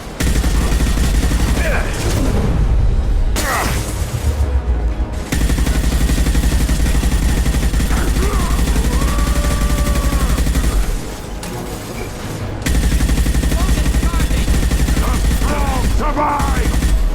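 Heavy gunfire from a sci-fi firefight in Mass Effect 2, loud and dense bursts filling most of the stretch with brief lulls, shouted voices breaking through between volleys.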